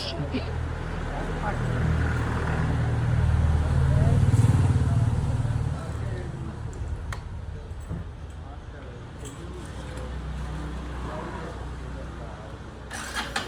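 A motorcycle runs close by, its engine rumbling loudly for the first several seconds before easing to a lower steady idle with some clatter, while people talk over it.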